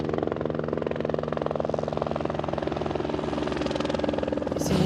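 Helicopter rotor chopping steadily and loudly overhead in the mountainous Mafate cirque on Réunion Island, a rapid regular thudding pulse over a turbine whine that continues throughout.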